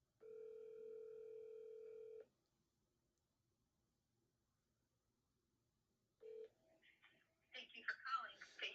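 A telephone call ringing out unanswered: one long steady ringback tone for about two seconds, then silence, then the start of another tone cut short as faint voices and clatter rise.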